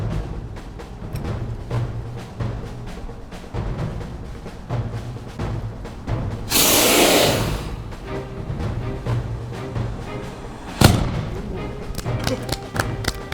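A Joseon singijeon rocket warhead is set off in a test: a loud, roughly one-second rushing blast stands out over steady outdoor background noise, followed some seconds later by a single sharp crack.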